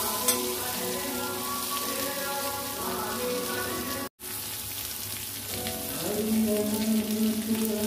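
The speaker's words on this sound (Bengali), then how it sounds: "সবগুলোকে দিয়ে একটু নুন আর হলুদ দিয়ে এটাকে আমি একটু ভেজে নেব।" Jackfruit seeds and a whole peeled garlic, with salt and turmeric, fry in hot oil, giving a dense, even sizzle and crackle that cuts out for a moment and then comes back a little louder.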